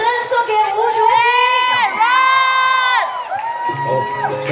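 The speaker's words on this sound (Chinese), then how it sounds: "来掌声送给吴卓羲" An audience at a celebrity fan event at Wisma Atria, Singapore, cheers with loud, sustained high-pitched shrieks and whoops. Several voices rise and fall together in close, overlapping bursts.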